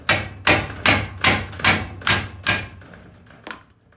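Hammer blows bashing the metal body of an 1980s Toyota Hilux pickup during a body-drop restoration, about nine sharp ringing strikes at a steady half-second rhythm, close and loud, the last ones weaker and spaced out.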